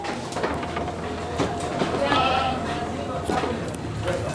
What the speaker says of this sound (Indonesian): Nah ini dia teman-teman, kambingnya.